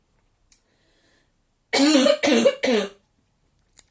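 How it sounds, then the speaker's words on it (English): A person with a dry cough lets out three quick, harsh coughs in a row, close and fairly loud, in an otherwise quiet room. "I've got a terrible dry cough."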